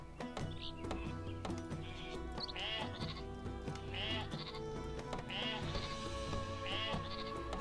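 Sheep bleating in the video game Northgard, several repeated bleats scattered across the stretch over a busy background of game music and sound effects.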